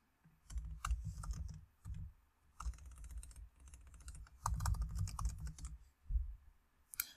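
Code being typed on a computer keyboard, quiet close clicking in several quick bursts separated by short pauses, with no speech.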